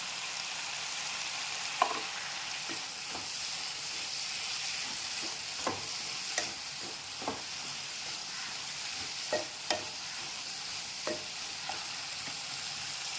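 Mixed vegetables sauté over medium heat in a pan with a constant soft sizzle, punctuated by a dozen or so irregular spatula taps and scrapes, close and fairly quiet, with no voices.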